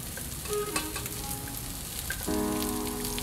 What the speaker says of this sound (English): In a pot with some olive oil, toss in the rest of your carrots,